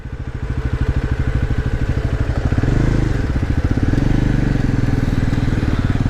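A Bajaj Pulsar NS400 motorcycle rides along a road with a steady, close engine drone. The rapid rhythmic pulsing swells slightly midway and carries on without any voices.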